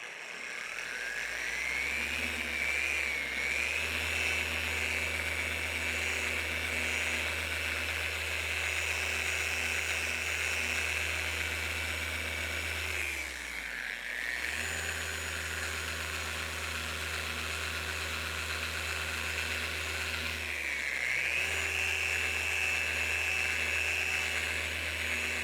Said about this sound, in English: I think I can actually get in here with the polisher without having to do it by hand